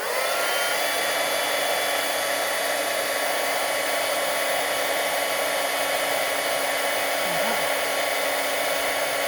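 Handheld heat embossing tool blowing hot air to melt embossing powder on a card, a steady loud fan whine and rushing air that runs unbroken throughout.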